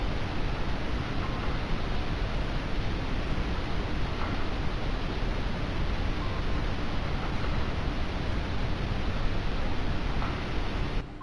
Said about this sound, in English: It's literally just white noise.